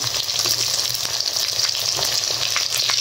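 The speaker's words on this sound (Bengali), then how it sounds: "মশলাগুলি ভালো করে কষে নেব।" A spice paste of garlic, ginger and chopped tomato fries in a pan with a steady, dense sizzle and faint stirring, close and even throughout.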